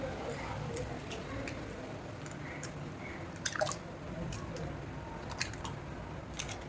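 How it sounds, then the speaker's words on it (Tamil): Water boiling in a pot for cooking eggs, a steady low gurgle with occasional small pops and clicks close by. "இப்போது தண்ணி கொதிக்குது."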